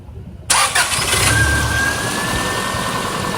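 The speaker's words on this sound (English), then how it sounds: "we're gonna crank it in idle" A 2002 Subaru Outback engine cranks briefly and catches, then settles into a steady, loud idle nearby, with no talking.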